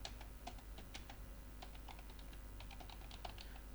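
Computer keyboard keys are tapped while typing in Microsoft Word, giving soft, close, irregular clicks in quick bursts with no voices over a quiet room.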